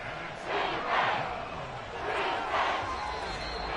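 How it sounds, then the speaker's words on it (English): A large stadium crowd at an American football game, Texans versus Raiders, roars loudly and continuously, swelling in waves, with distant voices mixed into the din. "this crowd making it hard to hear"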